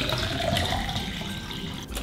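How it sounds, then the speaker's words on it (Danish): Water pours steadily into a cup meant not to tip over, a continuous close splashing and filling rush for about two seconds with no talk. "så kan vi få noget vand derind"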